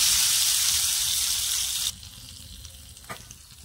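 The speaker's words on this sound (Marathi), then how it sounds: "आता हा गरमागरम तडका आपल्याला चांगला असा हलवून घ्यायचा आणि यावर असा घालून द्यायचा" Hot tempering poured over egg masala sizzles loudly, a bright crackling hiss that cuts off abruptly after a couple of seconds, leaving a faint clink and quiet kitchen background.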